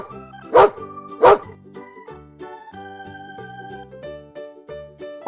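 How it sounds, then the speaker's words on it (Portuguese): Two sharp dog barks spaced under a second apart stand out loudly over light, playful background music in a children's animal-names lesson. "Esse aqui você conhece bem, é o cachorro."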